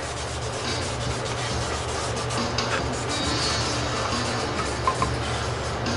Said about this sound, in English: The trick is always to sand off slightly to get it to blend.